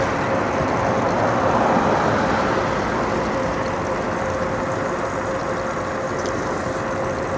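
Steady road traffic on a back road off the Las Vegas Boulevard, a continuous broadband rumble of passing cars and heavier vehicles with a faint held engine tone, fairly loud and unbroken.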